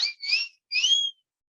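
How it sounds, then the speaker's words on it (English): A bright whistle sound effect plays two rising-and-falling chirps, the first split into a quick double note, clean and fairly loud against silence. "I love that whistle."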